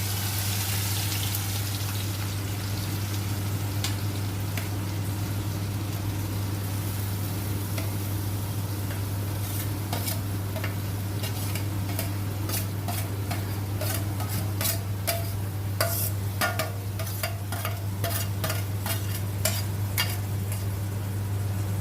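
Ingredients for a tomato dish frying in hot oil, a steady close sizzle with frequent clinks and scrapes of stirring that grow busier over time, no voices.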